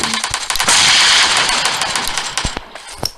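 Fast bursts of automatic gunfire and single shots crackle through a PUBG Mobile match, loud and close, with a sustained hiss of firing through the middle.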